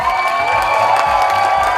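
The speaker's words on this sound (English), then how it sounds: "Put a big round of applause for these guys." A crowd claps and cheers loudly, with whoops and shouts over steady applause throughout.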